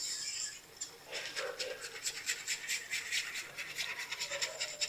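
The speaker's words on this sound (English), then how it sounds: "Just want to whisk it up." A nylon whisk stirs gravy in a pot with quick, rhythmic scraping strokes, soft and close, repeating steadily for several seconds.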